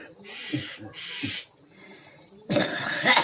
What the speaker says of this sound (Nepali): मलाई खोकी लाग्यो।